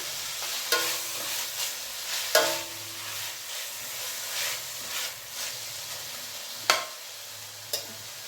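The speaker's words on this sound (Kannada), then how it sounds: "ಈರುಳ್ಳಿ ಚೆನ್ನಾಗಿ ಫ್ರೈ ಆಗಲಿ." Sliced onions and green chillies frying in oil in a pan, giving a steady sizzle broken by several sharp scraping stir strokes, close and fairly loud, with no talk.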